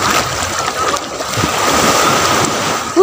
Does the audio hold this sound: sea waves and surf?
yes